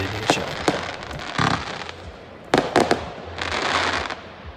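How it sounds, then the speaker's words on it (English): Real fireworks are set off by a nearby club on Canada Day in Toronto, beside Lake Ontario. Close, sharp bangs are followed by bursts of crackling in an uneven sequence. "this club nearby started firing some real fireworks"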